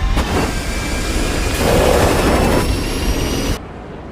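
A spacecraft's engines roar loudly and steadily, a dense rushing thrust that holds then cuts off abruptly near the end.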